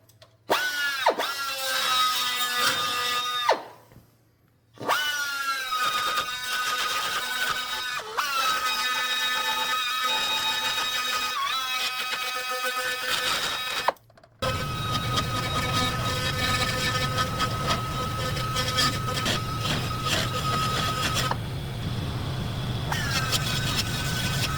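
A carbide burr grinding out cracks in an aluminum cage, a high whining buzz in several long bursts separated by brief pauses, close and loud, continuing steadily in the second half.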